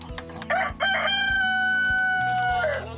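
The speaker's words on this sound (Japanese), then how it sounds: "これは土佐久金っていう鳥ですね。" A Tosa Kukin rooster, a rare native Japanese chicken breed kept by a private owner, crows loudly and close, one long drawn-out call with a rising then falling tone.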